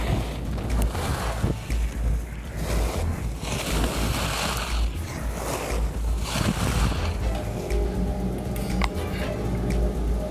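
Snowmaking machines run at full speed on a ski slope at Greek Peak in upstate New York during a snowstorm, a loud, continuous roaring hiss with gusty swells and no talking.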